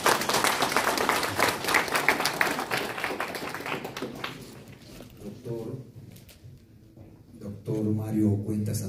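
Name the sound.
applause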